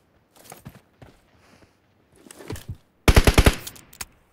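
M16 rifle fire in a shooter video game: a few scattered single shots, then a loud close burst of rapid automatic fire near the end.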